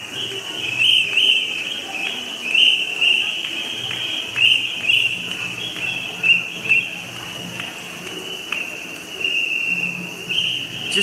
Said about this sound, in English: You can hear the whistling.